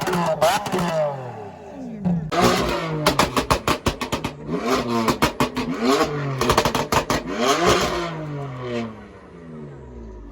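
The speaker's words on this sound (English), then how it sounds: "We got people revving this shit." Several cars revving their engines as they leave a car meet, including a British Racing Green Lotus and a Gintani-tuned Ferrari, with loud repeated bursts of throttle and sharp pops and crackles close by, rising and falling in quick succession.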